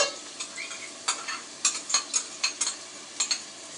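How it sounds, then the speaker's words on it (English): Chopped onions and garlic fry in a pan for jollof rice, a soft sizzle broken by repeated scraping stirs of a utensil, a dozen or so quick strokes in uneven rhythm, close and fairly quiet. "I can put the chopped onions in now, and then fry it for a few minutes."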